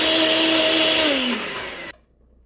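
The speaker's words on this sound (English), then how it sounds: "straight into the blender with 150 grams of room temperature water. Blend it until it's smooth" A blender runs on spinach with water, giving a loud, close whirring motor hum that winds down in pitch over about two seconds before switching off into silence.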